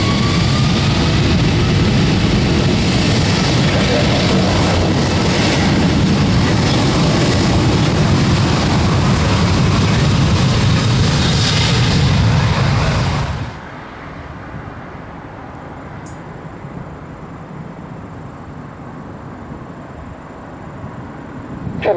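Virgin Atlantic Airbus A340-600 jet taking off, a loud, steady, broad engine roar that holds for about thirteen seconds, then cuts away to a quieter low rumble.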